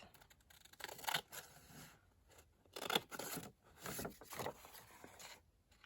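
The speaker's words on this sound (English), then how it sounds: "Just cut down. Long scissors make it easier." Long scissors cut down through paper while making vintage envelopes, several quiet crisp snips and slicing strokes in uneven bursts, close and soft, with no talking.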